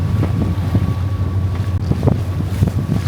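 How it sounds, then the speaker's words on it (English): Steady wind buffets a sailboat approaching a marina in about 15 knots after a front, a loud continuous rushing with microphone roar and faint water and engine rumble beneath. "The wind's blowing like 15."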